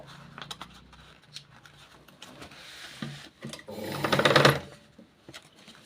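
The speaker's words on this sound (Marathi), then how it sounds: "मी इथं बाही शिवून तुम्हाला दाखवत आहे" A sewing machine stitches a long designer sleeve, with soft rustling and handling sounds before a short, louder burst of whirring stitching near the end. No one speaks.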